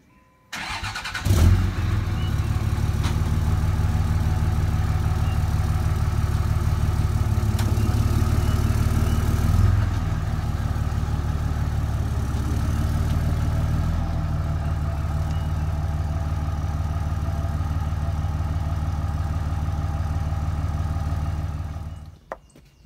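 Truck engine turning over and running steadily for about twenty seconds, a loud, deep idling rumble close by before cutting off.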